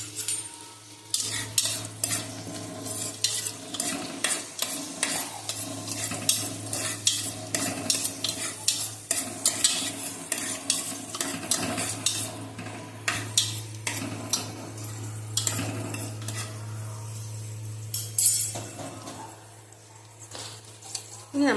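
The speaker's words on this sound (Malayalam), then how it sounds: "അത് നമ്മൾ ഇതിലേക്ക് ഇട്ട് കൊടുത്തിട്ട് ഒന്ന് വഴറ്റിയെടുക്കാം കേട്ടോ" Chopped ginger, garlic and green chili are sautéed in a pan for a simple meat curry, with repeated scraping and stirring clicks of a spoon over a low steady sizzle and hum, with no talking.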